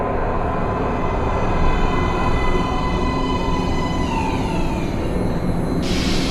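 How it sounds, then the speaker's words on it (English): A metro train rumbles into a station platform in the video game Metro Last Light Redux, a loud, steady roar with rising and falling high whines from the wheels and motors. "Please step away from the edge of the platform. Train coming in."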